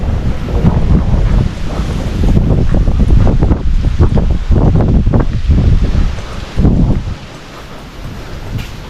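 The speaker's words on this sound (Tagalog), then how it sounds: "Lakas ng hangin ah." Strong wind buffeting an outdoor microphone, producing loud, continuous low rumbling gusts that surge and ease, with a brief stronger blast near the end.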